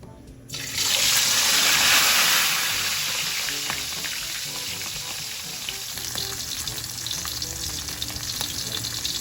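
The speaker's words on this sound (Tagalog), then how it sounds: "Ngayon po ay magpiprito na ako ng isda." Pampano fish drops into hot oil and fries with a loud burst of spitting and crackling that settles into a steady, close sizzle with occasional pops, with no voices.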